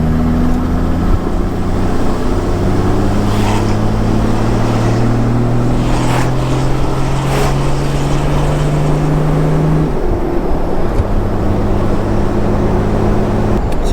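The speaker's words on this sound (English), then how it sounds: "I'm just going to give it a little bit of a test drive, see how it goes, keep an eye on the temps." A Toyota Land Cruiser 4x4 with a 1HD-T turbo diesel engine climbs a steep hill, its engine droning loudly and steadily with rising pitch as it pulls, then settling after a gear change near the end, with no talk.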